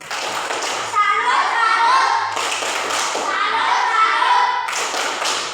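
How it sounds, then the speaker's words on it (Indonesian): Children doing a rhythmic patterned greeting clap (tepuk salam), loud and close, with groups of claps and taps in bursts while young voices chant along between them. "Terima kasih atas tepuk salam"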